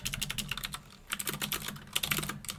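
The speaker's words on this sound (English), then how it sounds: "my typing's terrible" Fast, irregular typing on a computer keyboard, close and fairly quiet, with bursts of clacking keystrokes and brief pauses, and no voices.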